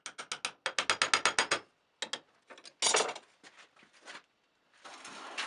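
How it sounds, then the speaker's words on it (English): Gentle light tapping on a knife tang clamped in a vise to straighten it, a quick run of about a dozen crisp metallic taps, then scattered clinks and a few louder knocks, close and with no talk. "Just tapping it very gently because I don't want to deform anything."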